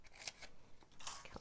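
Scissors snip through paper craft pieces for a handmade Christmas project, with a few quick, faint crisp cuts in close succession.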